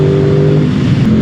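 Aprilia RS 660 motorcycle with a new 659 cc parallel-twin engine, revving with a steady, loud, close engine drone and audible airbox intake growl, sustained without pauses and with no voices.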